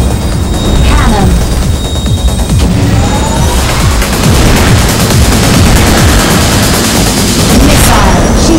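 Loud, dense Wipeout HD racing-game combat: repeated heavy booms and cannon blasts overlap with explosions and crashes, continuous and intense from start to finish.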